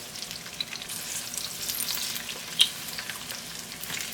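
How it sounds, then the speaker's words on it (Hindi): Potatoes frying with browned onions in a pan for potato bhujia, a soft steady sizzle with light stirring and one brief clink, fairly quiet. "आलू को अच्छी तरह से प्याज के साथ फ्राई करेंगे।"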